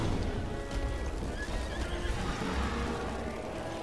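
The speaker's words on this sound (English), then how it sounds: "Where's my horse?" A horse in the video game Breath of the Wild neighs loudly and close, with clip-clopping hooves mixed into busy game sounds.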